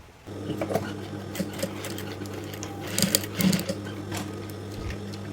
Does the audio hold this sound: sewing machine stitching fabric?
yes